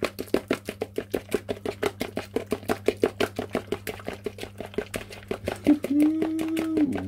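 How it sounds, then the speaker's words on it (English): Batter of banana, honey and peanut butter for bread being mixed with rapid rhythmic thumping strokes against a bowl, steady and close, with a low hum beneath and a brief voice near the end. "I'll give that a mix"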